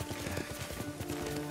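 Horse hooves clop at a steady riding gait in Ghost of Tsushima, close and rhythmic throughout the short stretch with no voices over it.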